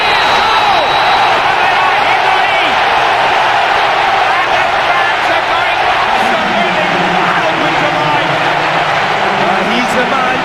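A large football stadium crowd roars and cheers continuously during the match, loud, dense and sustained, with a commentator's voice running over it.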